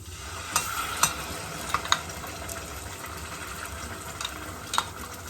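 A mostly-pepper sauce hits a hot pan and fries with a steady, close sizzle and bubbling, with a few sharp clicks and taps scattered over the hiss.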